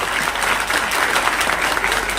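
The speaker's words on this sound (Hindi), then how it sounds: "इसलिए सभी लोग उनके लिए एक बार ताली बजा दीजिए, एक बार जोर से।" Loud, dense clapping from a large audience gathered for a speech, a continuous full round of applause at steady strength with no voices over it.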